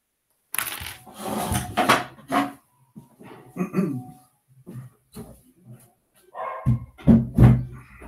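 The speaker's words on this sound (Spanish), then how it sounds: "Y escuchen mi perro que haya presentándose." A dog barks indoors in a home, a few short, loud barks near the microphone, spread among quieter household noises.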